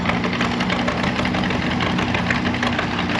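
Several two-cylinder tractor engines idle together at a tractor pull, a loud, steady, dense rumble with a chugging low throb that fills the whole stretch without pause.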